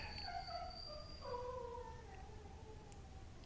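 A pet dog howls in a drawn-out, wavering cry whose pitch steps and falls over a few seconds, heard at modest volume over a quiet room hum with no talk.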